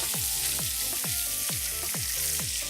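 A striped bass fillet frying in oil in a pan, giving a steady, close hiss of sizzling, with a regular pulsing beat running underneath and no talk.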